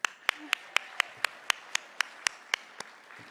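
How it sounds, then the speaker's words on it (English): Steady, evenly spaced claps for award winners at an awards ceremony, about four per second, crisp and fairly close, with a faint murmur of background noise. "a big round of applause for all of our award winners"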